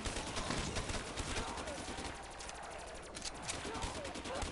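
Rapid bursts of gunfire from a Call of Duty zombies match sound continuously, dense and loud throughout, with players talking over the shooting.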